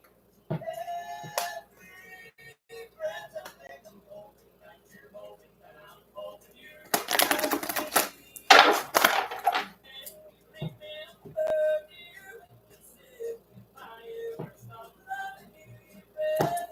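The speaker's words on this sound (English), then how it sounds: "I feel like I want to give him one more shuffle here." Bursts of papery riffling come through as tarot cards are shuffled, two dense flurries in the middle, with scattered soft taps and clicks around them.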